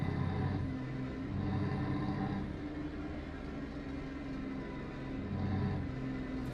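The engine of an old Tourismo in Euro Truck Simulator 2 drones at a steady low rumble in sixth gear, with little change in pitch throughout.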